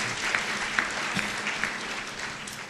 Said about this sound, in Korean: 박수 쳐주셨으면 좋겠습니다